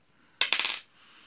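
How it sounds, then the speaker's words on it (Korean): Dice rolled for the Make N Break board game clatter sharply onto a table in one quick burst of several rapid rattling bounces, close and alone, then settle into quiet. "옆에 친구가 주사위를 굴려가면서 더해갑니다."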